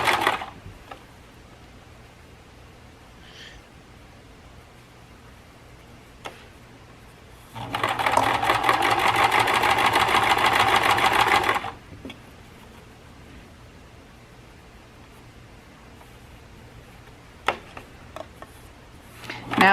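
Sewing machine stitching down the center of a folded fabric potholder, a steady dense whir in one continuous burst of about four seconds, with quiet stretches before and after.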